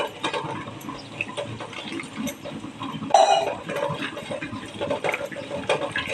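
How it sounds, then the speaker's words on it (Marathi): Water poured into a bowl of ragi flour batter, a close gushing, splashing pour running steadily with a brief louder surge midway. "अजून मला ह्याच्यात पाणी घालायचं आहे थोडं"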